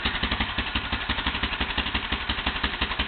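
A Yamaha Big Bear ATV engine runs at a steady idle, close and loud, with a rapid, even pulsing throb and mechanical clatter, slightly uneven as if the carburetor needs cleaning.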